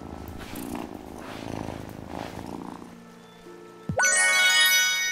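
A pet cat purring while being petted in a cozy fantasy video game: a steady soft purr under gentle game music, ending in a bright chiming jingle, with no one talking.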